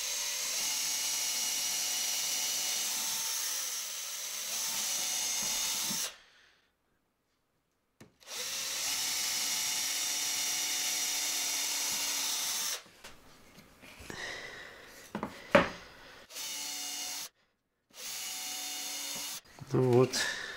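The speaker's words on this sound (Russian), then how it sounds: "Сейчас для саморезов я сверлю дырочки в задней стенке и в передней." A power drill bores screw holes through two wooden boards stacked together, giving whirring bursts of drilling separated by pauses and silence, with some handling and rubbing noises near the end.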